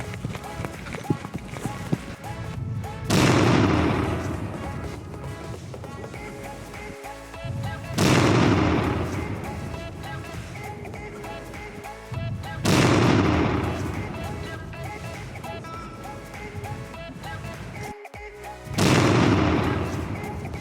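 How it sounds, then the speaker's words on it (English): A Cobra 8 firecracker sets off four loud, booming blasts roughly five seconds apart outdoors, each with a rumbling tail that fades into background noise. "That was another firecracker power test by me"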